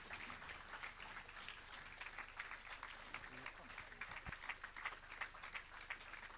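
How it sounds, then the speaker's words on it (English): Faint, sustained applause from an audience at an international affairs academy event in Nigeria greeting General Yakubu Gowon, a steady distant patter of many hands. "Please, let's keep the applause going for His Excellency."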